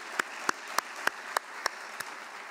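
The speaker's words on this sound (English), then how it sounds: "Give a round of applause for Dr. Thompson for being here." A small audience at a university talk on inclusive culture claps slowly and unevenly, about seven separate, faint claps spaced at a steady pace over a quiet room.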